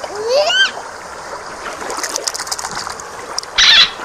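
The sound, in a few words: toy dolphin splashing into water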